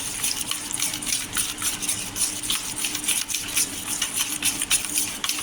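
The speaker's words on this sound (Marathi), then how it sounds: "मिक्स थोडं पाणी टाकायचं." A little water splashes and trickles into poha cutlet batter, a close, continuous wet hiss and patter without speech.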